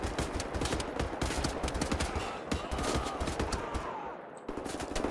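Rapid, sustained assault rifle fire in the shooter game Wolfenstein, a loud unbroken stream of close shots that pauses briefly near the end, then resumes.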